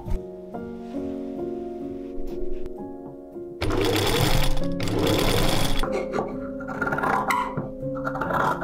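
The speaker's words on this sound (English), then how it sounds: "So first I sewed the seams right sides facing out, cut away the seam allowance and turned everything inside out to sew it again." Sewing machine stitching the seams of a tulle dress, its steady mechanical hum and needle chatter running throughout and growing louder and busier partway through, with no talking.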